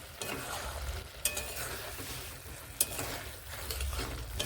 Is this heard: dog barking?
no